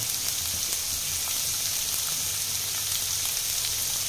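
Onion and green chillies sizzle steadily in hot oil, a continuous dense crackling hiss that holds even and close throughout, with no voices.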